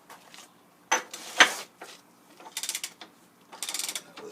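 A socket ratchet clicks on overarm bolts of a Rockford universal shaper, with quick close bursts of pawl clatter separated by short pauses and metallic knocks.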